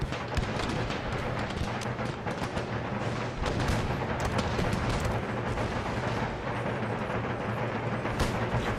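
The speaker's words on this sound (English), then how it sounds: "See if we can retarget the artillery." Continuous dense artillery fire and battlefield din in the strategy game Empire: Total War, Darthmod, playing as Great Britain: a loud, steady wash of overlapping booms and rumbling with no clear breaks.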